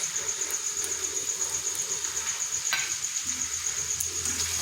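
Meatballs being stirred into tomato sauce in a pan, a soft continuous sizzle with faint scraping of the spoon, quiet and close with no talking.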